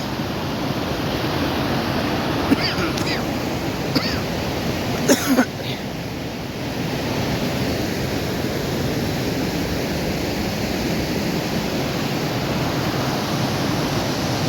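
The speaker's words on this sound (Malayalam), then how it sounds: "നല്ല ഫോഴ്സിലാണ് വെള്ളം പോകുന്നത് കേട്ടോ" Steady, forceful rush of the Alma Arasan waterfall near Almaty, Kazakhstan, roars without a break throughout, broad and loud, with a few brief faint clicks near the start.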